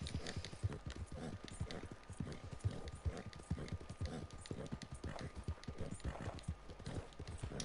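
Horse hooves clip-clop steadily in Red Dead Redemption 2, a quick even rhythm of soft thuds at moderate distance, continuing throughout.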